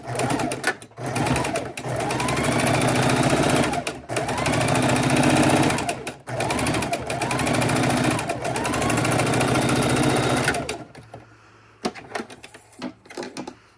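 A home sewing machine stitches across a small fabric scrap for a DIY keychain wallet, its steady close motor hum running continuously for about ten seconds before stopping, followed by quieter handling sounds.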